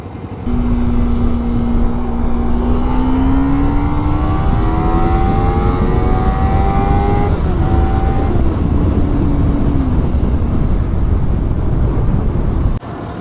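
Kawasaki Ninja 300 and Ninja 250 motorcycles climbing uphill, a loud steady engine drone with rising, sweeping rev tones through the gears under heavy wind rush, ending in a sudden drop.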